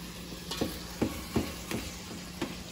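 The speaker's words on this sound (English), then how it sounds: "we're gonna let the meat sizzle a little bit" Steady broadband sizzle of meat frying in a pan, with a few sharp scraping or stirring knocks at irregular intervals; no talking.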